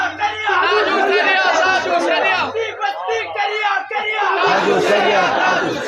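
A large crowd at an Urs gathering shouts religious slogans back in unison, loud massed voices rising and falling in waves with brief gaps between calls.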